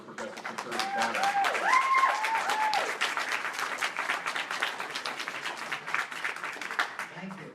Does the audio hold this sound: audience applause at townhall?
yes